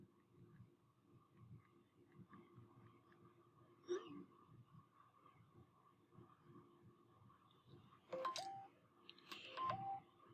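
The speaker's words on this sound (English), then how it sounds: "my phone was going off" A mobile phone sounds faintly in a quiet room, with a short tone early on and then clusters of beeping electronic tones near the end.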